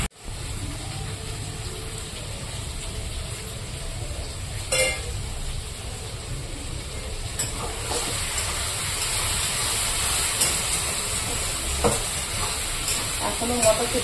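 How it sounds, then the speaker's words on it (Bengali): Vegetables with salt and turmeric being stirred and sautéed in a pan, a steady sizzle and frying hiss with occasional scraping of the spoon, growing slightly louder over time. "আগে আমি সবজিটাকে ভালো করে কষিয়ে নেব।"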